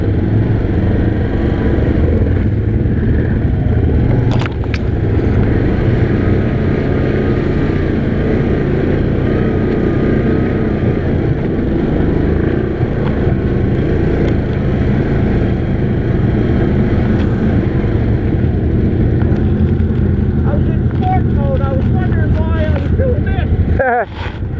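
A 570 ATV with sport and eco modes runs on a snowy trail, a loud continuous engine drone with wind buffeting across the microphone, up close throughout and ending in a burst of rattling.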